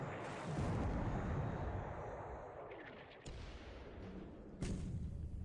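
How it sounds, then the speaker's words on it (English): Heavy, rumbling explosions in a World War II Pacific naval game roll and fade, with a sharp crack midway and another deep boom near the end, and no voices. "Torpedoes."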